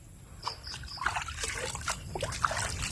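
Plain water without soap trickles and splashes as a Malaysian Serama rooster is rinsed, soft intermittent dribbles and sloshes at close range, fairly quiet over a low background hum.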